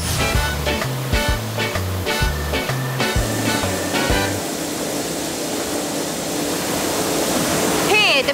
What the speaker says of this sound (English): That's the noise of the plastic pellets being sucked through these pipes as they're carried from the silos into the factory.